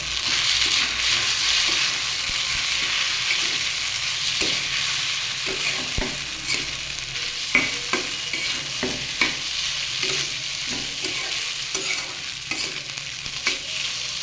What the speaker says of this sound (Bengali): এবার এটাকে ভালোভাবে মিশিয়ে নেব।